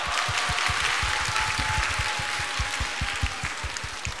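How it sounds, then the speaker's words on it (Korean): The audience at Song Kang's first fan meeting claps together in a rapid, rhythmic beat that holds for several seconds, with a faint tone and crowd murmur behind it. "여러분 박수 좀 보내"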